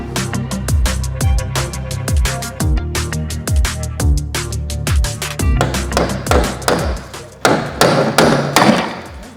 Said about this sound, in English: Hit the fender with the hammer.